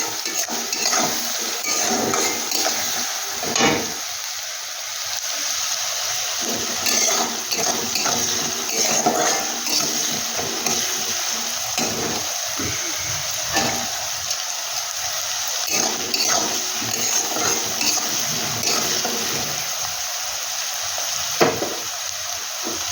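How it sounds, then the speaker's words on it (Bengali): Onions frying with salt in a pan give a loud, continuous crackling sizzle, broken by intermittent clinks and scrapes of a utensil stirring, with no talking. "লবণটা দিয়ে দিলে পেঁয়াজটা তাড়াতাড়ি করে ভেজে"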